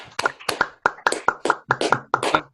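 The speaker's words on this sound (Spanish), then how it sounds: "Yo quiero pedirle a este grupo que te demos un aplauso muy sentido, muy merecido" A small audience at a public policy lecture on social protection and growth in Latin America claps in short, uneven bursts of sharp, close hand claps with brief gaps between them.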